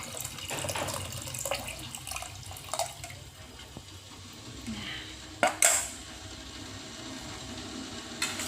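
Coconut milk is poured and re-strained while making sarabba, the Makassar traditional drink, giving a soft trickling, splashing flow with light metallic clinks of a strainer and utensils against a pot.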